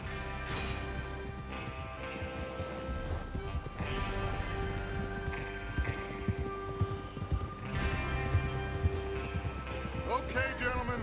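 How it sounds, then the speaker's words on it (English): Several horses galloping in Red Dead Redemption 2, with steady clip-clopping hooves close by under a continuous game soundscape and occasional brief voices. "Get your horses ready."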